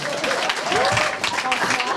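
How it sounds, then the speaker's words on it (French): A gala audience applauds in a reverberant hall, a dense patter of clapping with voices mixed through it and a few higher whoops rising above the crowd. "Applaudissez fort!"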